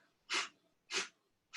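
Three strong, rhythmic puffs of breath forced out through the nose in a yoga breathing exercise, evenly spaced and close, with brief silences between them.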